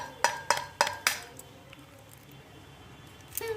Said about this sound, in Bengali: একটা ডিম ফাটিয়ে